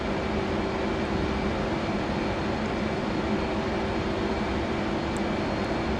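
Continuous broadband roar of an F/A-18C Hornet jet engine on afterburner in the DCS World flight simulator, loud and steady throughout with no breaks or voices.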